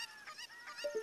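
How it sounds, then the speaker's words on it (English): A chicken in Zelda: Ocarina of Time gives a few short, honking squawks in quick succession, fairly close and alone, with no talk over them. "Calm down, chicken."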